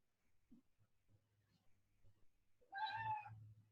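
A cat gives one clear, fairly loud meow during an indoor yoga class, following a quiet stretch with faint rustling and low hum.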